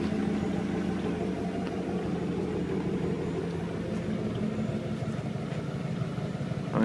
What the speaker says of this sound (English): It sounds fantastic. I love the dual exhaust sound.